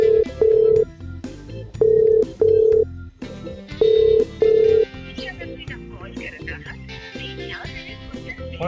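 A telephone rings repeatedly after a call is dialled, with regular paired electronic ring bursts over background music and some talk.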